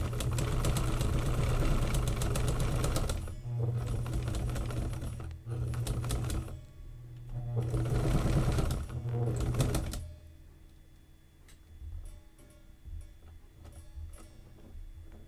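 Sewing machine stitching a zigzag pattern on a laptop bag in a workshop, two loud bursts of rapid mechanical clatter with a brief pause between, then stopping into quieter room noise.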